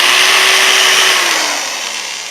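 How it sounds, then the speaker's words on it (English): A power drill whirs steadily at high speed, then winds down slightly as it slows near the end, loud and close with no talking. "that drill was running entirely off solar power"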